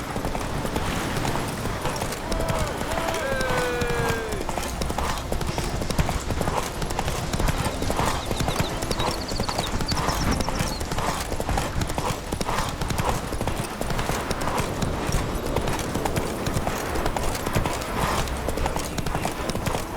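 Roach the horse galloping in The Witcher 3, with steady rapid hoofbeats running throughout, loud and continuous beneath game music and ambient sound.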